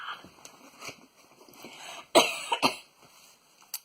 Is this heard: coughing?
yes